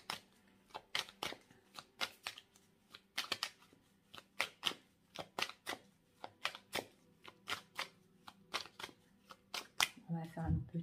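A deck of tarot or playing cards is shuffled and cut in a steady run of crisp, close riffling snaps, about two per second, fairly loud, ending in a brief clatter of cards with no talk over them.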